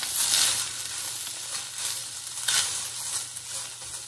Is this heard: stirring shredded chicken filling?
yes